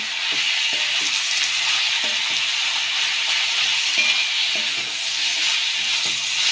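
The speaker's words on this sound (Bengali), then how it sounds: "মশলাটা দিয়ে আমি ভালো করে নাড়াচাড়া দিয়ে নেব" Vegetables with mustard paste and poppy seed paste sizzle steadily in a frying pan for a Bengali cauliflower stem chorchori, a loud continuous hiss punctuated by soft rhythmic scrapes of stirring.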